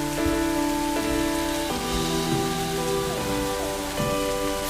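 Steady rain falls continuously over a surface, a dense even patter with a low steady hum beneath, no voices.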